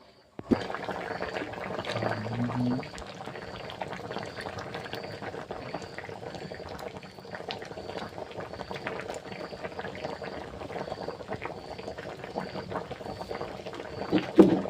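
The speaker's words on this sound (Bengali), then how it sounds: "তরকারিটা ফুটে উঠেছে" A pot of fish curry bubbles on the stove in a home kitchen, a soft steady simmer of popping and gurgling heard close for the whole stretch, with a brief louder clatter near the start.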